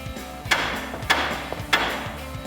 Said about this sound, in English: Now we can grab a hammer and start tapping on the side to dislodge the ball joint.